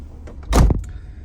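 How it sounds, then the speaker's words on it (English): A door on a Mercedes W124 shuts with a single solid, heavy clunk, loud and close, followed by a brief rattle and quiet idle background. "That epic clunk when you close the door."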